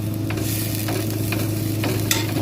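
Fish frying in a pan with mustard paste while water is poured in gives a steady, continuous sizzle and bubbling, with a constant low hum underneath and a few faint stirring scrapes. No one speaks.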